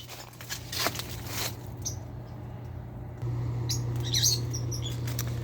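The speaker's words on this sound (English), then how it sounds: "You can hear all the lovebirds around me here." Lovebirds around a mango tree, faint scattered chirps and twitters at a distance, with a few soft rustles and pats nearby.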